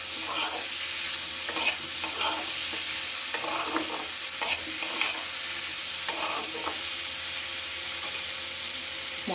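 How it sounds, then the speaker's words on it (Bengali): Spices frying in oil in a pan for a Bengali fish curry made with home-grown vegetables: a steady close sizzle broken by repeated stirring scrapes, with no talk. "মশলাটা ভাজা হয়ে গেছে"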